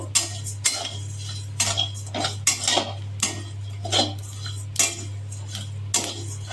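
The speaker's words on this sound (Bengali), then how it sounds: "কড়াইয়ে দিয়ে দিয়েছি। এবার মশলাগুলো ভালো করে ভেজে নেব।" A metal spatula repeatedly scrapes and clinks against a wok as fennel and coriander spices are dry-fried for mango pickle, with sharp strokes at an uneven rhythm and nobody talking.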